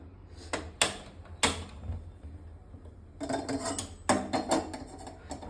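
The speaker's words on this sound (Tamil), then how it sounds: "நான் இந்த வானல் தான் எடுத்துக்கிறேன், சின்ன சைஸ் வானல்" A small kadai pan is picked up in a home kitchen while making bajji, giving several sharp metallic clanks and knocks in two bursts, close and fairly loud with quiet gaps between.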